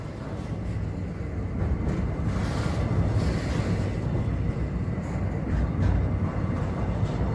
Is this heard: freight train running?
yes